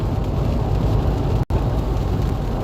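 Steady rain drums on a car driving along a highway at night, a dense continuous hiss and patter with road rumble beneath, loud and close throughout with one brief dropout midway.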